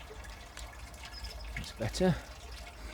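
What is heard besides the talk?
rainwater running off a greenhouse into a barrel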